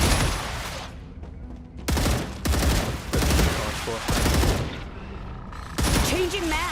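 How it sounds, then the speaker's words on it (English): Gunfire in the video game StarRupture, bursts of rapid automatic shots in several clusters separated by brief pauses, loud and close, with game effects between volleys. "with the stream delay, you probably hear the gunfire before I say it"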